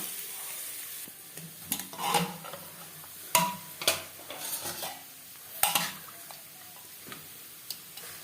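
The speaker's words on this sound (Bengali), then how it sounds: "স্বাদ মতো লবণ লবণ হলুদ দিয়ে আলু হালকা করে ভেজে দেব" Boiled potatoes lightly frying with salt and turmeric in a pan for mutton curry, with a faint low sizzle broken by irregular spatula scrapes and clinks against the pan.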